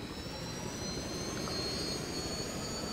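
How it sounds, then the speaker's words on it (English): A steady airplane engine roar from the video game Just Cause 2 drones continuously at an even level, with a thin high whine above it and no voices. "They are using some technology to turn into a plane in midair."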